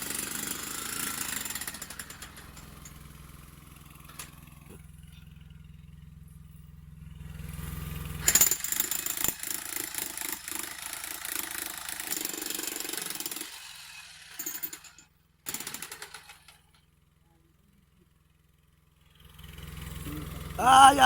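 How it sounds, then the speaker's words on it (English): A jackhammer drilling a well in Papua New Guinea rattles continuously in rapid pounding bursts, stopping briefly and then starting again, loud and nearby with machinery noise around it. "you probably can hear the sound. That's the jackhammer."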